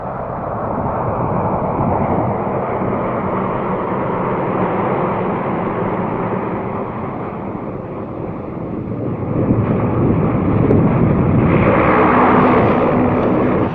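Lockheed LC-130 turboprop engines roar steadily on an Antarctic skiway, a loud, continuous broadband drone that swells slightly toward the end, with wind buffeting and no voices.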